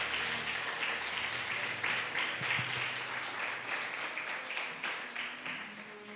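A church congregation claps together during a Sunday service, a steady, moderately distant wash of applause lasting several seconds with a few faint voices underneath.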